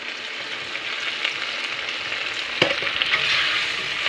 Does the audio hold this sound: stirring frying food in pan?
yes